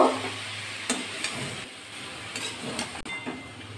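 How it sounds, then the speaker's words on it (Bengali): Red amaranth greens frying in a pan with salt and turmeric are stirred, giving a steady soft sizzle broken by several scraping strokes spread through the moment. "এবার একটু নাড়াচাড়া করে নেব।"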